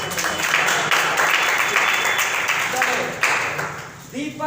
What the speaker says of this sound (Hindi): अरे ताली बजाओ